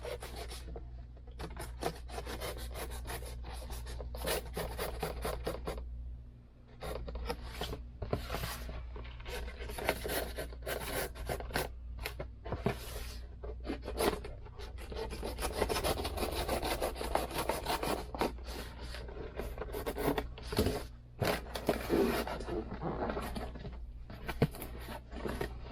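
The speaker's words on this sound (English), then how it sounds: "I'm going to fold the box down." Cardboard box being folded down while packing an eBay sale, giving steady rubbing, scraping and creasing sounds with scattered sharper bends, close and continuous with no talk.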